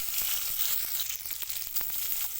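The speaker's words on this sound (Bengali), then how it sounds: "পেঁয়াজটা ব্রাউন কালার হয়ে দিয়ে দিচ্ছি এর মধ্যে কেটে রাখা টমেটো" Chopped tomatoes hitting browned onions in a hot frying pan give a steady, close sizzle with scattered crackles and soft stirring scrapes throughout, no voices.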